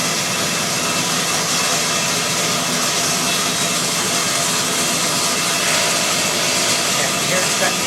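A table saw cuts a circle into a wooden workpiece, giving a loud, continuous whining roar held steady throughout, close by and with no talking.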